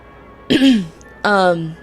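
Two short, harsh throat clearings close to the microphone, one after the other with a brief pause between them.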